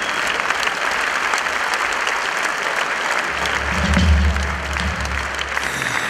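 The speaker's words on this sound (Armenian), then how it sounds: "ես խնդրում եմ ջերմ ծափահարություն" Warm applause from a concert-evening audience, a steady dense clatter of many hands held throughout, swelling slightly near the end with a low rumble underneath.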